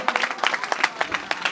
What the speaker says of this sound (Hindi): जोरदार तालियों के साथ इनका स्वागत करें।